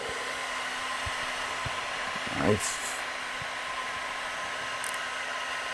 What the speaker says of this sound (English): Take the heat gun, and the air will disappear.